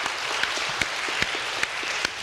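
Faint applause at a panel discussion for a Hwang Chang-bae retrospective exhibition, with a few sharp claps standing out at a regular pace above a soft background patter.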